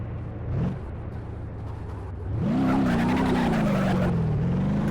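A car in BeamNG Drive rumbles along a bumpy road, then its engine swells and a sustained tire squeal rises as it slides and drifts, loud and close with no talking.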